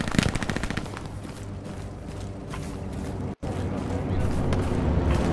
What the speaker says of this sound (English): Hold on, we'll shoot some AG shells into the tower.